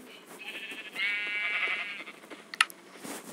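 Livestock goats bleating as they are fed on a village farm, one drawn-out wavering bleat standing out near and clear over faint background rustle, followed by a sharp brief knock.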